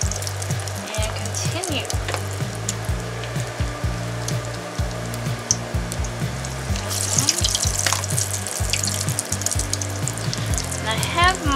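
Salmon croquette patties fry in grease in a pan over medium heat, a loud crackling sizzle with bursts of popping and spatter, while a person speaks briefly.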